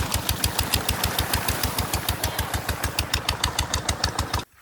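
A new motorcycle's engine idles close by with a steady, rapid thumping beat that runs evenly for a few seconds before cutting off abruptly near the end.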